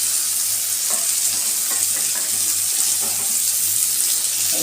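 Paneer pieces frying in a pan for sago pulao while being stirred, a steady close sizzle with light scraping strokes and a low hum running underneath, no one talking.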